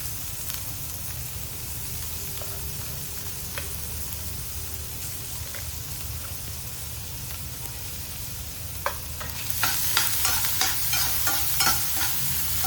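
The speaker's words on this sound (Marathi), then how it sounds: "इथे कांदा फ्राय झालेला आहे, छान कलर आलेला आहे." Finely chopped onion frying in a pan for a homemade street-style veg frankie, a steady close sizzle with occasional scraping stirs that grow busier and louder toward the end, no talking.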